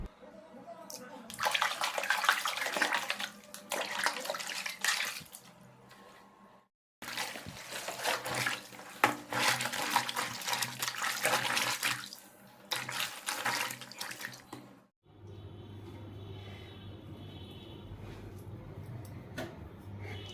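Tap water running into a tub while bedsheets soak in salt water, a loud splashing gush in two bursts separated by a brief pause, then a quieter, thinner trickle with a faint hum.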